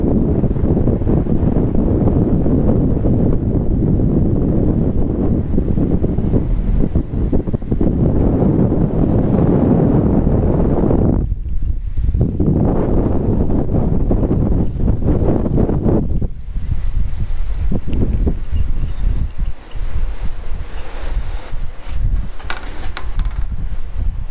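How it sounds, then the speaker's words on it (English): Strong wind on the deck of a fast ferry from Flåm to Bergen, Norway, buffets the microphone in a loud, continuous roar, with dips and gusts and a low rumble underneath. "It's very windy out here"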